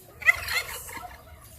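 A turkey gobbles once, close by, in a backyard pen during a heavy Oklahoma thunderstorm. The short rattling call rises and fades within about a second over a faint low background.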